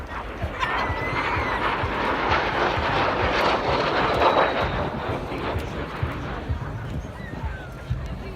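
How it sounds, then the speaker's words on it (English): A Mikoyan-Gurevich MiG-15 UTI swept-wing jet flies past at an airshow, a loud, continuous broadband roar that swells slightly in the middle and holds to the end. "the Mikoyan Gorevich MiG-15 UTI coming in from the left."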